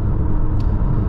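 Inside a Peugeot RCZ THP200 Asphalt Edition on the move, loud road noise and exhaust rumble fill the cabin as a dense, constant low roar, with no voices over it.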